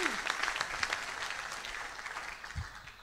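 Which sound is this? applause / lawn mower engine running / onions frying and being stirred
applause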